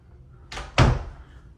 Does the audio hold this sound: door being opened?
yes